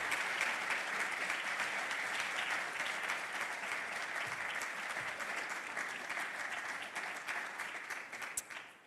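Audience applause at the SUNY Norman R. McConney Awards ceremony: a full room claps steadily and continuously for about nine seconds, dense and even, then thins out near the end.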